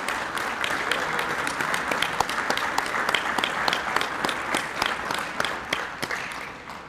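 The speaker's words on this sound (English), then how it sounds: "Let's give these folks a round of applause" A college commencement crowd gives a round of applause, steady dense clapping with a few sharper, nearby claps standing out, sustained for several seconds before tapering.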